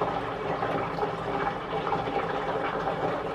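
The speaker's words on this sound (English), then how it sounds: "So yeah, we're just gonna get the honey in there." Honey water pours through a tiny IKEA funnel, a steady, close gurgling trickle of liquid that runs on without pause and with no talking.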